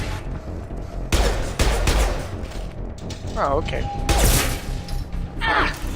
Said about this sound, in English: let's keep running into explosions